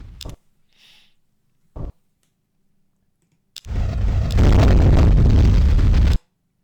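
A plasma cannon ship fires in the space battle game Master of Orion 2. A few soft clicks come first, then a loud, dense, roaring blast holds steady for about two and a half seconds before cutting off.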